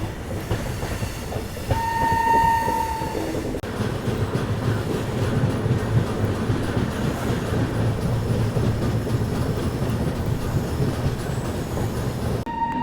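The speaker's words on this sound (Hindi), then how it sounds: "फिलहाल अपनी गाड़ी मानक नगर स्टेशन को स्किप कर रही है।" A Bihar Sampark Kranti Express train runs steadily through Manak Nagar station without stopping. Its wheel rumble and rail noise stay loud throughout, with a brief high wheel squeal or whistle early on and again near the end.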